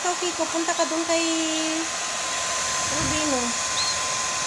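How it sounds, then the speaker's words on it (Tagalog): Hair dryer blowing steadily to dry pet birds after their bath, a continuous airy whir running throughout while a person speaks over it and calls to the birds. "Para mag-blower ko kayo"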